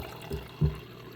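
Buttermilk from homemade butter pours through a strainer into a container, giving two faint, short liquid splashes against a low background hum.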